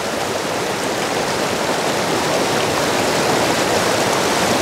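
A mountain stream, heavily scoured after a historic flood, flows with a loud, constant, close rushing roar that stays even throughout, with no voices.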